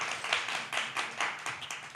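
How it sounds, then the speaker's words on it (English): An audience in a Johannesburg room applauds a speaker, brisk close clapping in uneven bursts over two seconds with no talk. "And a beautiful round of applause for Dr. Linia."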